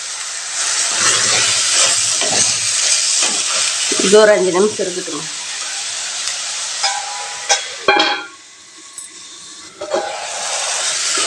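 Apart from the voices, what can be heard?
chicken sautéing in a pan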